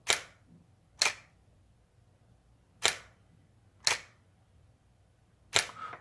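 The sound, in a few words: camera shutter button pressed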